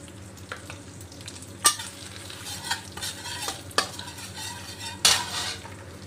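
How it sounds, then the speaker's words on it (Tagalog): Dry prawns being stir-fried in a pan, with soft sizzling and the scrape and clack of a utensil hitting the pan several times, close and alone. "Ngayon, igigisa natin yung dry prawns."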